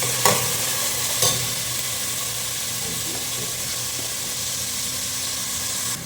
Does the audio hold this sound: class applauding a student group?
no